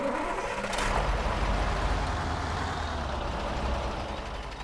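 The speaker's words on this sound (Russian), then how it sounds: "Стандартный звук дефолтного КамАЗа" A KamAZ-43101 truck engine in the SpinTires video game cranking and settling into a steady, loud diesel rumble with a broad noisy roar, heard alone and without talk.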